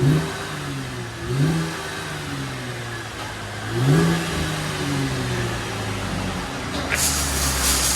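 A Chevy Camaro V6 running an aftermarket exhaust revs in several rising pulls, with a steady, throaty idle droning between them and a final swell near the end, close and fairly loud.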